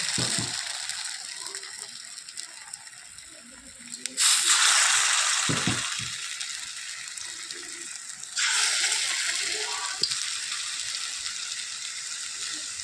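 Pointed gourd (potol) fritters frying in hot oil in a wok, giving a steady hissing sizzle that swells louder twice as more batter hits the oil, then settles back to a constant bubbling.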